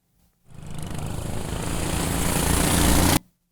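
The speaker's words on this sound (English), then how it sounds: "This next track is more ATV engine sounds to be mixed in." An ATV engine sound effect roars in abruptly, building steadily louder over about three seconds of continuous revving before cutting off sharply, alone with no voices.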